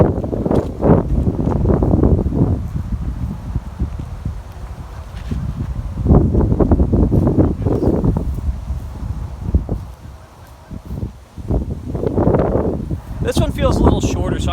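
Wind gusts buffet the microphone outdoors on a beginner course, heavy low rumbling blasts that come and go in waves, with a brief lull near the end.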